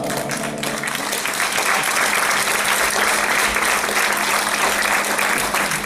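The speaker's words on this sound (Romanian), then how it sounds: "Are nevoie de mai multe aplauze" Audience at an anniversary show for RadioProdiaspora in Vulcan, Hunedoara applauding a performer, a dense, sustained wall of loud clapping from a large crowd for several seconds.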